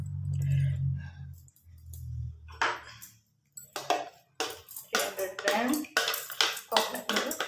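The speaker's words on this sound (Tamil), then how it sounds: "இதில் நான் மிக்ஸ் பண்ணுறேன்" A spoon stirs 300 ml of coconut milk in a bowl for a custard flour pudding, making close, irregular clinks and scrapes against the bowl after a low hum at the start.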